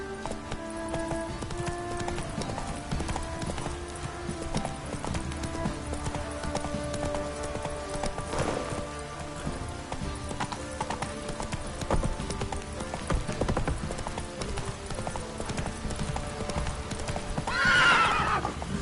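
Horse hooves clip-clop steadily for a long stretch in a brisk, even rhythm, with a horse whinnying briefly near the end, in the video game The Witcher 3: Wild Hunt.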